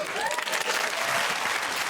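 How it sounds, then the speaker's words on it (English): A studio audience breaks into brief, loud applause, a dense burst of clapping and crowd noise lasting under two seconds. "Let's retract that round of applause."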